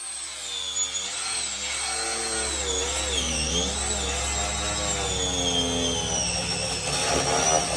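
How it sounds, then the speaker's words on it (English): An angle grinder cuts a tire off an aluminum rim, a loud close high-pitched whine that wavers in pitch as the disc bites the rubber, running continuously with no talk. "grab your grinder."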